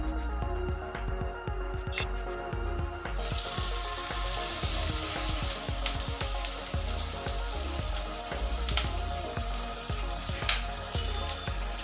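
Capsicum pieces fry in a kadai for kadai paneer, a continuous crackling sizzle with scattered sharp pops and occasional clinks, close and steady throughout.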